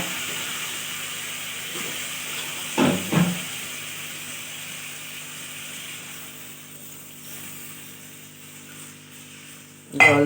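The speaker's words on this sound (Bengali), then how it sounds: "এবার জল দিয়ে দেবো।" Water is poured into a pan of cauliflower and potato curry, making a steady hiss and rush that lasts throughout, broken by a couple of dull knocks of the pan and a louder clatter at the end; no speech.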